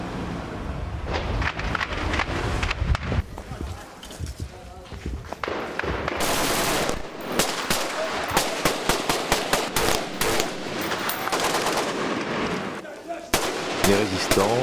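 Sniper gunfire during street fighting in Libya sounds as sharp cracks and bursts, some rapid and clustered, others isolated, heard close and loud amid shuffling movement and voices talking over the din.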